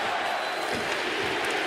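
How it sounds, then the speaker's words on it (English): Arena crowd at a Columbus Blue Jackets versus Seattle Kraken NHL hockey game roars steadily throughout, a dense, loud wash of cheering and chanting with no clear breaks. "You can hear the crowd and the CBJ chant here."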